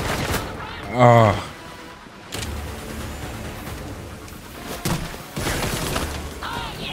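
Bursts of gunfire from the Gotham Knights video game, with a loud cracking blast early on, then steadier shots and clatter under a man's brief remarks.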